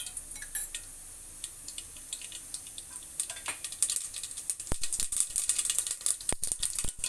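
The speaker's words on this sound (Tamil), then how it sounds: "கடுகு நல்லா பொரிஞ்சிடுச்சு" Mustard seeds spluttering and popping in hot oil in a sambar pot, scattered sharp crackles that grow denser toward the end, close by and with no talking.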